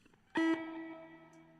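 Single electric guitar chord struck through an amplifier with reverb, loud attack then a long ringing sustain that slowly fades, heard alone.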